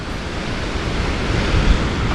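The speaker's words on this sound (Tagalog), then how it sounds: "Yan ang dagat." Ocean surf rolling onto the coast at Forster, New South Wales, a steady broad wash of waves with wind noise on the microphone, continuous and fairly loud with no voices.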